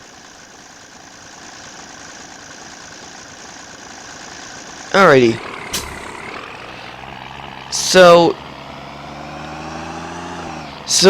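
A 1996 Amtran Ford B800 bus engine idles steadily in the Rigs of Rods driving game, a constant low drone running the whole time while someone speaks briefly over it.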